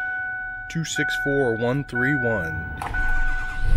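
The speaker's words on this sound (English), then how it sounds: "Truck fires right up, no problems." A 2008 Ford F350 Lariat with a built 6.4 Powerstroke diesel and 6-inch lift cranks briefly, then catches and settles into a rough, clattering idle that grows louder, following someone talking and a steady chime.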